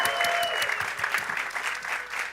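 Live audience at an interface showcase judging event breaking into a practice cheer with steady clapping and scattered whoops, a broad, continuous crowd roar held for the whole moment.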